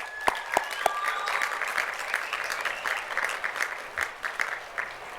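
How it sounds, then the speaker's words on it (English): A graduation ceremony audience applauds students, steady dense clapping mid-distance with a few louder close claps standing out, and no talking over it. "Let's give them a round of applause."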